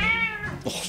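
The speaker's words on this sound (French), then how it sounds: "J'espère que c'était un vrai chat." A cat gives a single short, falling meow, loud and close, in a promotional clip for the Honor 9 phone.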